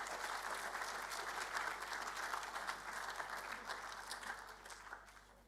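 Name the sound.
audience applause for exhibitors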